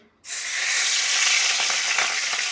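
Rui fish pieces frying in a pan of hot oil: after a brief silent moment, a loud, steady sizzle starts and holds, crackling and spitting throughout with no voices.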